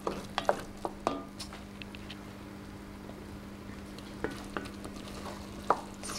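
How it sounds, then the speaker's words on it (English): A wooden spoon or spatula stirs pea and mint risotto in a pan, with soft scraping strokes and light sizzling over a constant low hum, sporadic and fairly quiet. "keep stirring, keep adding"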